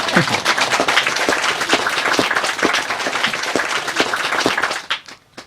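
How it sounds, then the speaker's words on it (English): A lecture audience claps for itself with loud, sustained applause. Sharp individual claps stand out from the crowd sound before it drops away abruptly near the end. "Now you can clap for yourself"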